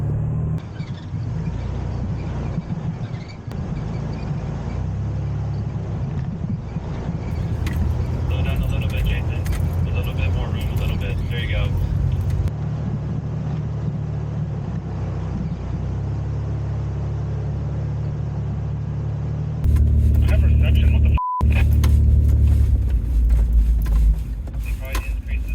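A 1980s Toyota 4Runner light pickup crawling along a rocky off-road trail, its low engine rumble and cabin rattles running steadily underneath someone talking almost the whole time, with a louder surge near the end.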